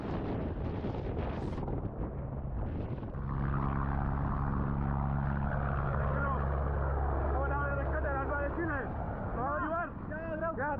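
A naval helicopter hovering over the sea during a rescue drill gives a steady droning rotor and engine hum mixed with wind buffeting, with voices talking over it.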